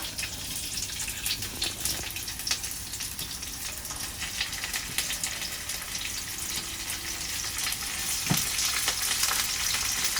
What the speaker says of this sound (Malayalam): ഓയിൽ വെച്ചിട്ടുണ്ട്. അത് ചൂടായി വരുമ്പോ ദാ സവാള ഇട്ടെടുക്കുക.